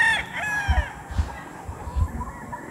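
A young Papay Gray gamefowl stag crows once near the start, a high drawn-out call, followed by soft thumps and low background noise with no talking.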